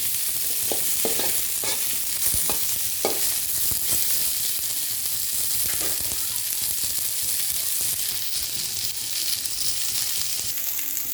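Vegetables sautéing in a pan, likely okra for a stir-fry, with a steady broadband sizzle and scattered scraping stirs of a spoon against the pan, close and continuous with no talk.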